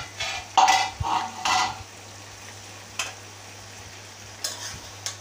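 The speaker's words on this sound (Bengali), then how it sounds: "এই যে আমি আবারও নেড়ে চেড়ে নিচ্ছি সবজিটা" Mixed vegetable curry cooked with five-spice powder is stirred in a pan: a few close scraping, clattering spoon strokes in the first two seconds, then a quiet simmer with occasional single clinks.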